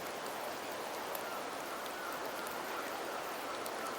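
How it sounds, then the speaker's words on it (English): Steady rain falls in Septimont in the game Wuthering Waves, an even, dense hiss of drops with scattered light ticks, constant and unbroken throughout. "The rains in Septimont never seem eager to leave this season."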